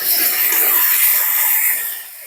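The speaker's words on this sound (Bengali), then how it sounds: "আমি মাঝে মাঝে একটুখানি করে জল দিয়ে সুন্দর করে কষিয়ে নেব।" Goat fat frying in a pan for a green jackfruit curry hisses steadily after a splash of water, a loud, close, continuous sizzle that eases slightly toward the end.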